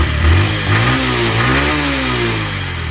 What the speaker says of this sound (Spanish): La acelero bastante y miren que la motocicleta no se ahoga ni nada.